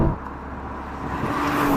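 Nissan GT-R NISMO twin-turbo engine pulling hard in second gear from around 3,000 rpm, a loud, steady low rumble swelling gradually as it builds revs, heard close from inside the cabin with no talking.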